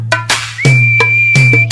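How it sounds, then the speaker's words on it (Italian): Short whistling from a cartoon scene, a clear sustained tone held for about a second between brief bursts of other sounds, loud and close. "come si fa a fischiare? Devi unire le labbra e poi soffiare."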